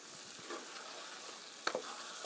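Bubbling tofu cream sauce simmers in a pan with a steady soft sizzle while sesame oil is stirred through it, a couple of brief scraping clinks of the spoon standing out near the end, no talking.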